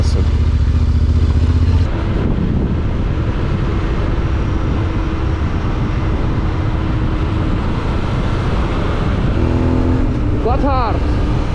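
Yamaha Tenere 700 motorcycle riding gravel roads near Swiss Alps passes, a loud continuous engine drone with heavy wind rush and tire noise, the rider talking over it.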